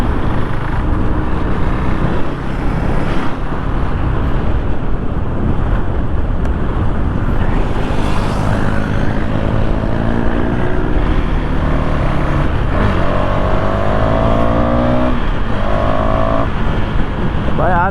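A KTM Duke 390 BS4 motorcycle revs hard and accelerates at high speed on a group Sunday ride, a loud, sustained engine roar with rising pitch sweeps, buffeted by heavy wind noise, as a rider talks over it.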